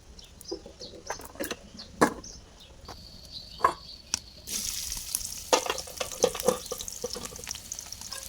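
Green chillies, onion and garlic frying in a village kitchen for a taro leaf curry: clanks and stirring scrapes at first, then a rising, continuous sizzle, with birds calling in the background.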